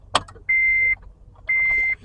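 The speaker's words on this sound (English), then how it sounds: "so I'm gonna turn the key on now and see if you hear a beep." Two steady electronic beeps, each about half a second long with a short gap between them, sound close by as the ignition key of a 2008 Honda Civic is turned on, after a brief click.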